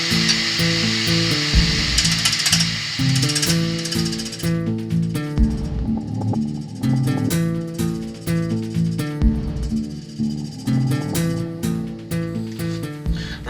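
A bowl gouge takes light cuts on a wooden mushroom spinning on a lathe, giving a loud, close, humming whine with a rattling chatter and repeated scraping pulses of cutting; no talking.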